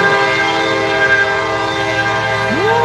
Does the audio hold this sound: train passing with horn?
yes